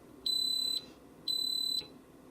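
An electric pressure cooker's keypad gives two long, high electronic beeps, evenly spaced and clear over a quiet kitchen, after the yogurt button is pressed.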